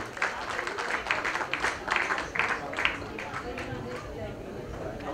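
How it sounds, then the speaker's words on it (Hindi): A crowd at an awards event bursts into applause, clapping in quick uneven waves that swell and then thin out, with voices talking over it. "जोरदार तालियों की गड़गड़ाहट हो जाए दोस्तों।"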